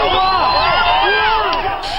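Agitated crowd of people shouting and clamouring together at a roadside lynching scene in Kenya, a dense continuous wall of overlapping voices, loud and close, with a burst of hiss near the end.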